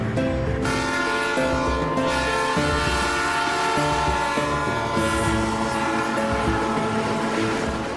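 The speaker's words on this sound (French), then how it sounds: "Être à l'avant de la loco, à la tête du train des Andes" An Andes train locomotive running in Peru, heard up front at the head of the train as a loud steady mechanical drone with layered tonal whine throughout.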